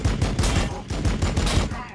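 Continuous gunfire from Sisters of Battle units in Warhammer Battlesector, the Adepta Sororitas squads firing a dense, rapid volley of overlapping shots that roll steadily and loudly throughout without a pause.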